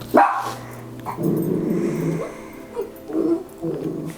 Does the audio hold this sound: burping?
no